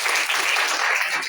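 Loud, dense applause from an audience at a Haryana Day school event, steady clapping filling the whole short stretch with no pause.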